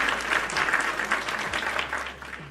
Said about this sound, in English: If you want to hear applause, well, then just type in applause.